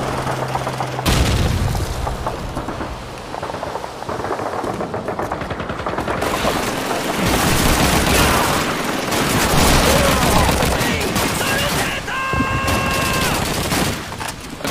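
Gunfire in the Call of Duty 2 video game at the Pointe du Hoc battle: loud, continuous bursts of rifle and machine-gun shots with booming impacts, sustained throughout, with a brief electronic chime near the end.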